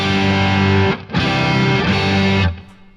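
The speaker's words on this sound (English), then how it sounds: "real overdriven plexi" Overdriven Plexi-style guitar amp tone from a TONEX amp model, loud sustained distorted chords ringing for about a second, a brief gap, then another long distorted strum that fades near the end, with no talking.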